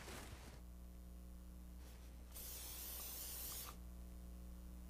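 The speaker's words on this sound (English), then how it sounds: "And I'll also give the brush a little spray." Hair spray is sprayed onto a hairbrush while a formal updo is styled, giving a steady, close hiss lasting about a second and a half over a low constant room hum, with a brief rustle earlier.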